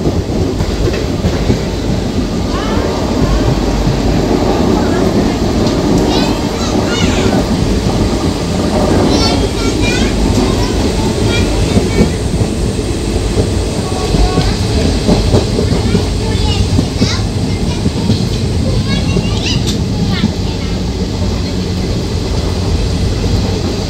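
Digha special train rolling past Kolaghat station, heard from inside the carriage as a loud, continuous rumble with clickety-clack wheel beats and occasional thin metallic squeals, under a faint murmur of voices.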